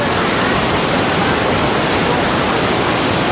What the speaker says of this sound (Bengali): ওপরের জলটা নিচে নেমে পড়ছে, আরও একটা ফলসের মতো লাগছে সুন্দর